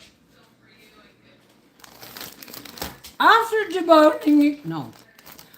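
A plastic bag crinkled and handled in a home kitchen, soft rustling at first, then louder crinkles under a woman's speech.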